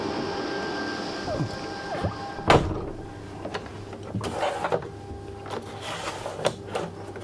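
A camper van door is shut with a sharp thump, followed by rattling and clicking noises from the fittings, heard up close indoors.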